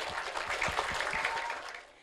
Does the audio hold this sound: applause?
yes